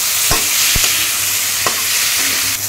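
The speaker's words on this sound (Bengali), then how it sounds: "এগুলো ভেজে নিচ্ছি" Pieces of pointed gourd seasoned with salt and turmeric fry in a pan, a steady close sizzle broken by a few sharp scrapes and knocks of stirring.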